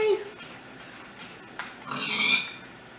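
A pig in Minecraft gives a brief grunting oink near the start, followed by faint game sounds and a squeal-like burst later on, all fairly quiet.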